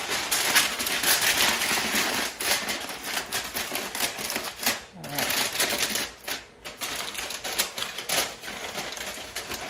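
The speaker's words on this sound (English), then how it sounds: "just going to cover this with foil, nice and tight. This is some heavy duty foil here." Heavy duty aluminum foil is crinkled and pressed tightly over a holiday ham, making close, continuous crackling and rustling bursts with brief pauses.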